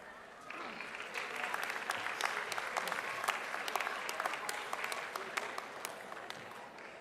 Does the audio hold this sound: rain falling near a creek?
no